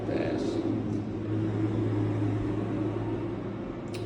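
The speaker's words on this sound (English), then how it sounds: "Let's wait for this truck to pass." A truck passing by outside: a steady, fairly loud low rumble and engine drone filling the whole moment without letting up.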